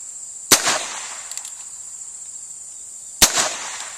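Two sharp, loud gunshots from a Heritage Rough Rider revolver fired outdoors, spaced about three seconds apart, each with a short echoing tail over a faint steady insect buzz.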